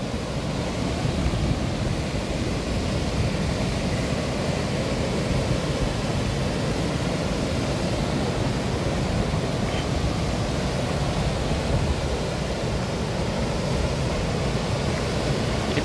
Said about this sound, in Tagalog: very close talaga tayo dito sa falls